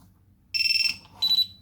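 HellGate FPV drone buzzer giving two short, loud, shrill electronic beep bursts, the first longer and pulsing, the second brief, heard close up over a faint background hum.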